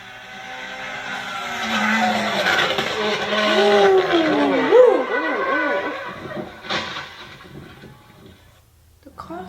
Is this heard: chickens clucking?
no